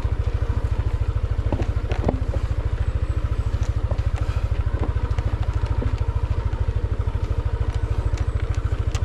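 A motorcycle climbing a steep, winding rocky road in Cebu, its engine pulsing in a steady low throb with occasional rattles and clunks from the rough surface, close and continuous with no talk.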